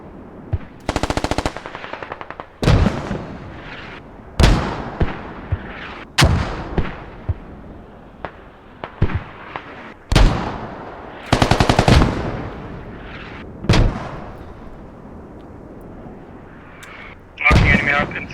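Artillery and machine-gun fire in the tactical shooter game Squad, a series of loud, sharp bursts and blasts spaced a few seconds apart, some rapid and rattling, others single booms with short echoing tails.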